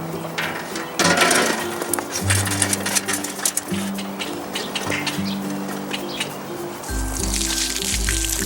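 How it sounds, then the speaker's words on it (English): Wet, freshly washed produce tumbles from a container onto a table, giving soft clattering thuds and drippy squishes with scattered small knocks and rustles, fairly close and moderately quiet. "I'm just going to pour them out onto this table"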